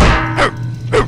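Dog barking in the video game Postal: two loud, close barks about half a second apart, each a sharp bark with a little tail, over a low steady hum.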